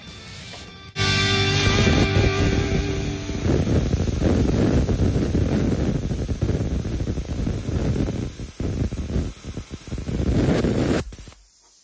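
Plasma cutter slicing 3/16 inch steel at 35 amps and 60 PSI, a loud steady hissing rush of air and arc that starts abruptly, holds for about ten seconds, then cuts off.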